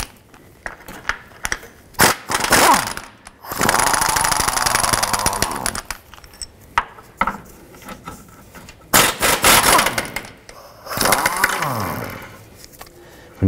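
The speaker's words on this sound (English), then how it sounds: "remove this bolt here, the one just beside it, and this bolt here using a 17 millimeter socket" Mechanical whirring and clattering from removing Honda Civic torque strut engine mount bolts with a 17 mm socket, coming in several loud close bursts separated by quieter gaps.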